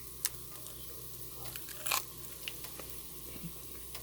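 A small bite into a buttered cheeseburger slider with bacon, onions, provolone and cheddar, giving one soft crunchy bite and a few quiet chewing sounds, close up with no talking.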